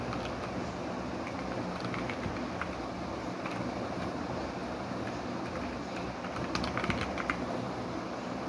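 Steady keyboard typing with quiet, continuous key clicks over a constant background hum, no voices.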